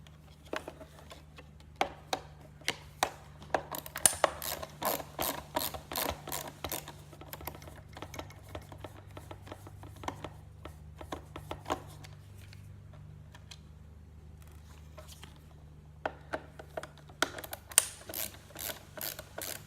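Screws being backed out of a Big Mouth Billy Bass singing fish with a screwdriver, a steady run of small ratcheting clicks and ticks, close and fairly quiet, pausing midway before the clicking resumes.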